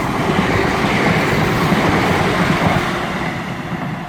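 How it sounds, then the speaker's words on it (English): A ScotRail train passes through Bowling station, heading from Edinburgh Waverley to Helensburgh, with a steady loud rumble and rail roar filling the whole span and easing off slightly at the end. "passing through now, we're going to have another ScotRail service"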